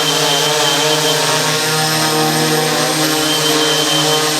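A radio control wing suit's motor runs at full throttle, a loud, steady droning whine that holds unbroken at the same pitch from start to finish with no talk over it.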